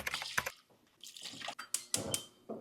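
Water being poured into a pan to cook oats, short splashing bursts with brief pauses between them, close and fairly soft.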